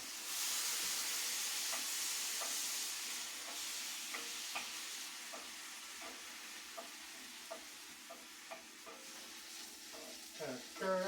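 Chili simmering with chorizo and seasoning in a pot, steady sizzle and hiss with a spoon scraping and tapping at irregular intervals, a few clinks toward the end.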